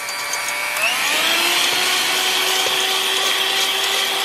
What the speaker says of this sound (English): we're going to beat these with our mixer until foamy.